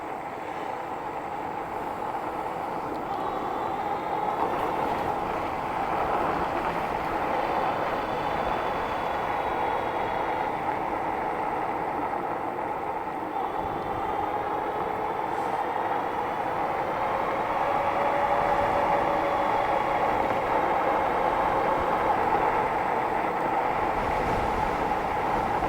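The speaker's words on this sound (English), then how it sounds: "they was running that little choo-choo train on them little itty-bitty tracks" A continuous low rumble and rattle of a small train rolling along its track, steady and unbroken throughout, with faint squeals now and then.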